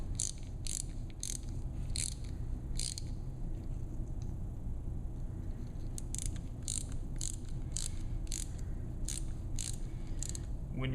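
A tap drill is advanced through a cannula into a Sawbones bone model, producing quiet, regularly spaced ratcheting clicks in short bursts over a low mechanical hum.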